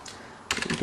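Keys tapped on a computer keyboard while typing a title into video editing software, a quick close burst of clicks starting halfway through after a brief quiet stretch.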